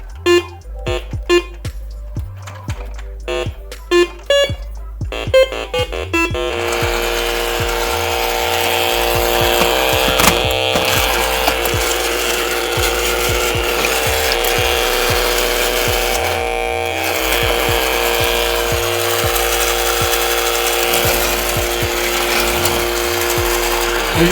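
Motors of a vintage Milton Bradley Big Trak toy whir and ratchet, starting as short stop-start bursts, then running steadily and loud with a gear-like mechanical buzz for most of the stretch.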